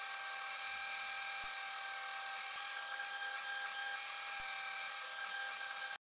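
A milling machine cuts a window out of a square metal block with a steady high whine that holds unbroken for several seconds, close and alone, with a few faint ticks underneath.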